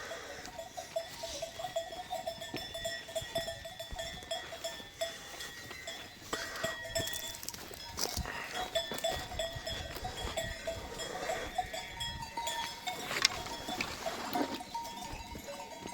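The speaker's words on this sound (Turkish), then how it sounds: "Bak koyunlar görüyor musunuz?" A flock of sheep outdoors, with scattered bleats near and far over steady rustling and faint bell-like clinks. The sound is fairly quiet and continuous, and there is no talking.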